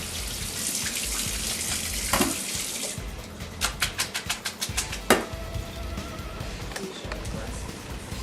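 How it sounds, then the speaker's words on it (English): Cold tap water running into a sink over freshly drained spaetzle, a steady broadband rush that fills the first three seconds, then gives way to a series of quick knocks and clatters with softer running water continuing underneath. "Run some cold water over it."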